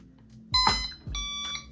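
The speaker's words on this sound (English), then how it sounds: "you'll see this beeping" Two electronic beep-tones sound close by from a Snaptain E10 drone powering on, one short chirp then a longer multi-tone beep, with a low hum underneath.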